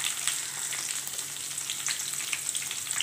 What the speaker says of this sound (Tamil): வரமிளகாய் கொஞ்சம் சுருக்குன்னு போட்டுக்கோங்க